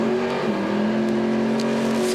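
Drag race cars launch off the line at a Wisconsin drag strip, one a foot-braked Chevy, their engines giving a loud, sustained droning roar that holds steady for a couple of seconds.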